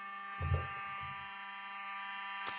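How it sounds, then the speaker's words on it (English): A steady electronic alarm tone sounds continuously at moderate level, with a few dull low thumps near the start and one brief click near the end. "This alarm has been going."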